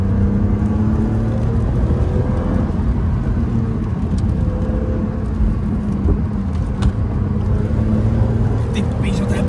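BMW M Roadster accelerating and drifting on a wet, stony dirt track, its engine a loud continuous roar throughout with broadband road and gravel noise, while people talk over it.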